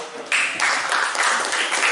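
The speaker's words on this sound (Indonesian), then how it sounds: "Terima kasih, tepuk tangan." Students in a chemistry classroom break into applause, a sudden burst of many hands clapping after a quiet moment, sustained and fairly close.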